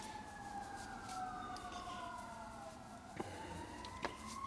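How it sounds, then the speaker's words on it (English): Fire engine sirens wailing outdoors at a middle distance, long rising and falling tones sweeping across one another, with a couple of short sharp knocks nearby near the end. "playing out there with the fire engines today"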